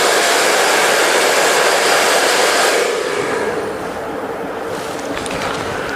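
A blow dryer roars steadily up close while hair is styled with a round brush for a razor or feather haircut, then eases to a lower, softer whoosh partway through.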